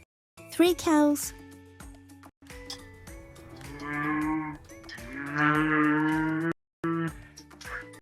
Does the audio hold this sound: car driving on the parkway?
no